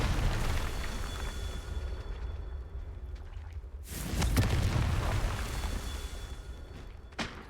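Confringo fire spell blasts in Hogwarts Legacy, a booming burst near four seconds over a steady rumbling game background, with a second sharp pop near the end.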